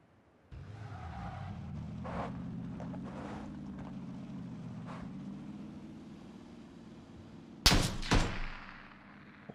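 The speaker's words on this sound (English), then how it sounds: "someone just shot" A single sharp gunshot cracks out in PUBG Battlegrounds during a fight around a house, a loud sudden burst with a short echoing tail, over a steady low engine-like drone that runs underneath.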